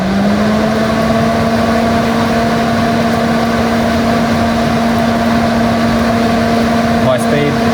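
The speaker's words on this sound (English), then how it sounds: "As you can hear, there's a lot more airflow going through that now" Car radiator cooling fan switched to high speed, a steady loud whoosh of airflow with a constant tonal hum, running continuously throughout.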